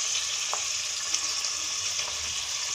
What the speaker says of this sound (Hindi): अब हम बीफ और अदरक लहसुन को अच्छे से भून लेंगे इसमें 2 से 3 मिनट के लिए।